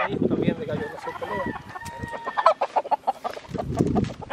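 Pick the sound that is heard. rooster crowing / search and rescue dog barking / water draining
rooster crowing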